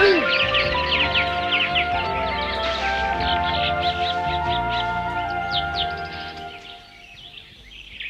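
Cartoon birds squawk and chirp in quick, bright bursts over a dense animated jungle soundtrack, with musical tones and some talk underneath, fading near the end.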